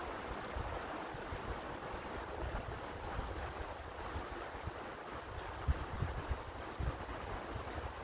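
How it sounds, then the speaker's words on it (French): Icy wind during a strong storm roars steadily outdoors, buffeting the microphone with a continuous broadband rush and occasional low thumps. "Il y a un vent glacial."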